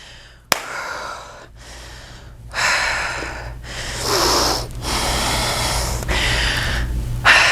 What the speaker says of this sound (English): I don't know how I'm gonna edit all this breathing out of here in this video